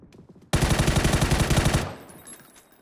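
Sustained automatic gunfire in the PUBG battle royale game, a loud rapid burst of evenly spaced shots lasting over a second, then fading into lighter ambient noise.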